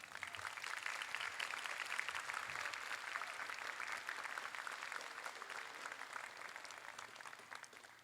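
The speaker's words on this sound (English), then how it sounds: "Another round of applause for Nayon Gill" A school class night audience applauds in a steady, dense wash of clapping that holds loud and even throughout, with no voices rising above it.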